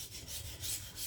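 Knife blade rasping back and forth on a whetstone, several quick gritty strokes in a steady rhythm, close and clear with no voices.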